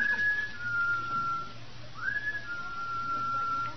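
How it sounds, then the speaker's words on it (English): Two drawn-out whistles, each starting with a quick rising slide then holding a steady high note, heard alone over a quiet hum. "That whistle?"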